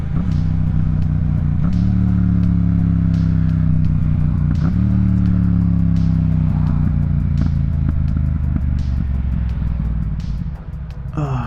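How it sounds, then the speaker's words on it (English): A Yamaha MT-07 motorcycle engine runs loud and steady while riding, its pitch dipping and rising in several stepped drops that match downshifts, with wind roar throughout and the engine easing off near the end. "The downshifts on this bike."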